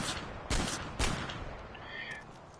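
Gunfire aimed at a car's side window in Far Cry 4, with two sharp loud bursts about half a second apart, then a quieter noisy tail.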